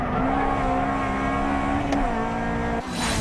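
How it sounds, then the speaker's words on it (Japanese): Loud, continuous engine drone from a Honda Civic EG6 racing a Toyota AE86 through the corners of a mountain pass, holding high revs before a brief dip and a sharp rise near the end. "なんとコーナーでもバンド号を引き離す走り"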